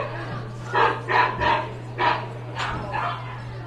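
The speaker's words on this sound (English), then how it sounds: "every time it plays, the real dogs start to bark" Dogs barking at a baseball game, set off by a fake bark sound over the PA, about six short sharp barks in an irregular series, fairly close over a steady low hum.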